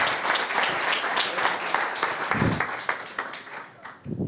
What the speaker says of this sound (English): Big applause, please, again, because we like to applause.